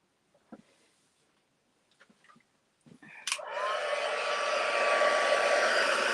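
A handheld heat tool for embossing switches on after a few faint taps and handling noises, then blows a steady, loud, close whirring roar that continues to the end.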